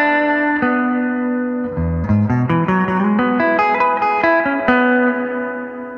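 An electric guitar played through a Fender Pano Verb amp with its reverb on rings out in sustained notes and a run of plucked tones, each decaying into a lingering wash.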